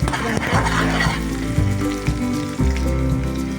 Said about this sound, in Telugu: ఇప్పుడు పచ్చిమిర్చి కూడా వేసుకోవాలి గాయస్. బాగా వేయించుకోవాలి